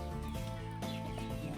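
Gamefowl chicks cluck and chirp together in a busy, continuous chorus, close by and fairly quiet.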